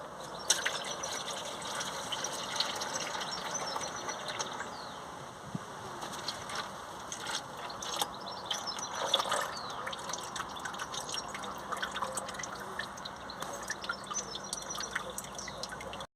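Gearbox oil pours and drips steadily from a VW Crafter 2.0 TDI manual gearbox, with faint splashes and occasional metallic clinks, all quiet and close, with no talking.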